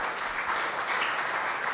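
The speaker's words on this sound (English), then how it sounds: "Big round of applause" Steady applause from a forum audience at the close of a panel event on a city forestry master plan, dense and continuous throughout.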